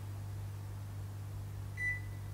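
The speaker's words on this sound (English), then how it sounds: "Wait for the beep." A ZIIP beauty device gives a single short high beep partway through, over a steady low electrical hum.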